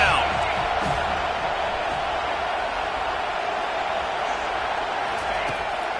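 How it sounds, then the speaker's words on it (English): Stadium crowd at a football game roaring behind the defense on third down, a loud steady wall of cheering and noise filling the space with no pause. "Decibels rising as the crowd gets behind this defense on 3rd down."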